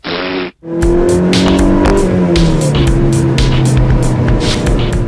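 A 2-liter inline-four car engine revs and roars up close, the pitch sliding as it accelerates, with a brief hiss before and a rattling, gritty texture throughout.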